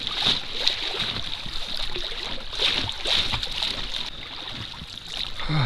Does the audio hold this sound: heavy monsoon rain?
no